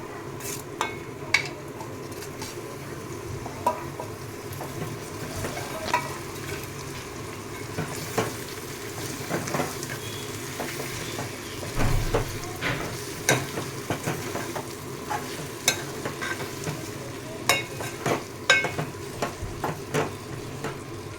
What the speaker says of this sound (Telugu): ఇప్పుడు ప్రాన్ వేసేసుకున్నాం అండి.